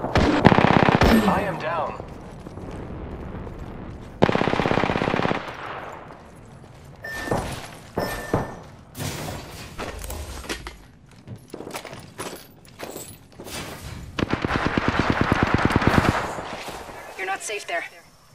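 Video game gunfire from a battle royale match: rapid automatic bursts and scattered shots at varying distances, heard under and between a player's voice call-outs.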